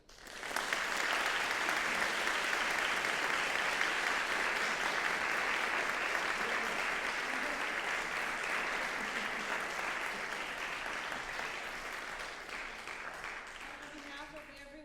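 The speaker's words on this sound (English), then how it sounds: "Give another round of applause to Dr. Hemke" Sustained applause from a large audience at a saxophone masterclass, a dense wash of clapping that holds steady for many seconds before slowly thinning.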